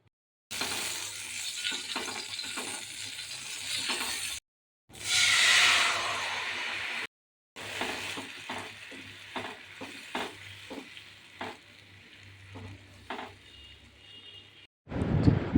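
A halved dried red chili sizzling in a spoonful of hot mustard oil in a pan, bursts of loud frying crackle broken by brief silences and spoon stirring clinks.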